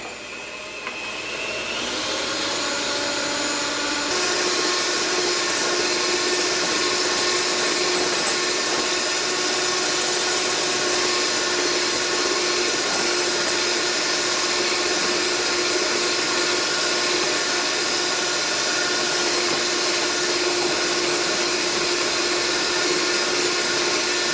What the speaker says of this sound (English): when you beat your whites, you want to go slowly with your sugar, little by little